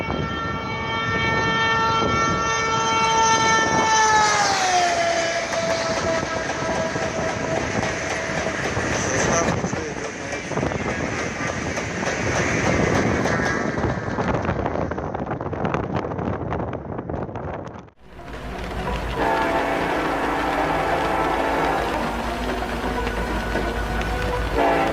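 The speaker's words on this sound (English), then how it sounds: "shows footage of train brake tests after the uncoupling" A high-speed train rushes past during a brake test, a loud, sustained roar of wheels and wind with a horn-like tone falling in pitch early on, then an abrupt cut to steadier rumbling, with faint voices.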